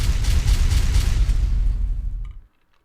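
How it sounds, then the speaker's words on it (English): Explosion sound effect: a heavy, rumbling boom that holds loud for about two seconds, then fades and cuts off into near silence. "Freaking boom! Explosion the second time works."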